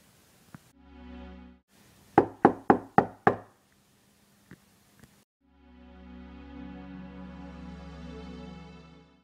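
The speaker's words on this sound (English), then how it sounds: "I heard a loud knock on the door" Five loud, sharp knocks on a door in quick succession, set between stretches of a low droning hum.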